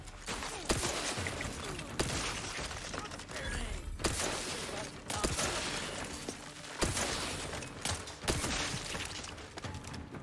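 Rifle fire in the video game Outer Worlds 2: repeated loud bursts of shots with sharp cracks, recurring every second or two across a busy, dense battle mix.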